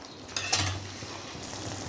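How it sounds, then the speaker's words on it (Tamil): Fish curry gravy bubbles and sizzles in a pot at close range, with a few brief clinks and stirring sounds over the soft simmer. "பாருங்கள், நல்லா கொதிச்சுக்கிட்டு இருக்கு"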